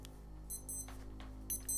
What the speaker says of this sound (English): My watch, for some reason, has an alarm set to 2 minutes before 11 o'clock at night